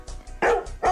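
Several short dog barks, loud and close, in an uneven rhythm with brief gaps between them and no talking.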